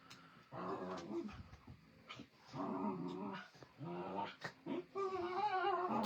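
Dogs play-fighting at close range, with bursts of throaty growls, grumbles and whimpering yips separated by brief pauses, loud and rough throughout.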